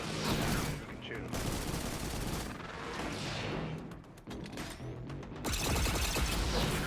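Dense bursts of automatic weapon fire and explosions in the Destiny 2 shooter, loud and nearly continuous with a brief lull, under some talking.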